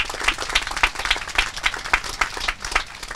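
Outdoor crowd at a Memorial Day observance in East Brunswick clapping steadily, a dense run of hand claps at moderate distance with no voices over it.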